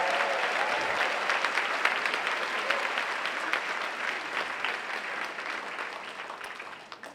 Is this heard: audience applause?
yes